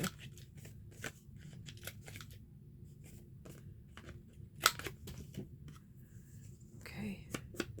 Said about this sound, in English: let's go ahead and trim her up too with the corner rounder